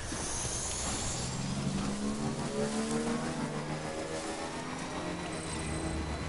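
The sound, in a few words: motorbike engine riding in a video game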